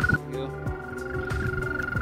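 American toads call during mating season with a steady, sustained high trill that runs through the whole stretch, joined by occasional soft low thumps and background noise.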